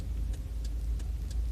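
A car heard from inside while driving, with a low, steady rumble of engine and road noise close up and faint regular ticking, like an indicator, over the top.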